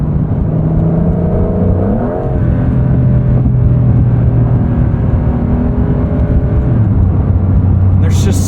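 Engine of a 2025 Porsche 911 GTS (992.2) roaring loudly inside the cabin as revs climb and fall, a sustained droning pitch that sweeps upward and then holds, with a voice talking over it.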